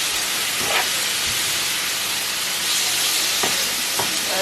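Brown stew chicken frying in a frying pan gives a steady, fairly loud broadband sizzle and hiss, with a few brief clanks and stirs breaking through, close up and with no voices.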